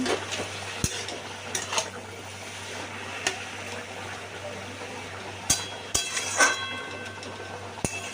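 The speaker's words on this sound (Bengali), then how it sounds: "নুন হলুদ দিয়ে দিয়ে দিলাম যে সেটা একসাথে আবারও নাড়াচাড়া করে মিশিয়ে নিচ্ছি" Snake gourd pieces with salt and turmeric are stirred in a pan, soft sizzling under intermittent sharp clinks of a spatula against the metal, spaced irregularly, no talk.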